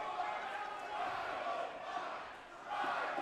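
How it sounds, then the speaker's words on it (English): A wrestling crowd at a Duke City Championship Wrestling event chants together, a distant rhythmic roar of many voices filling the arena, swelling and dipping steadily. "505 chants from the crowd."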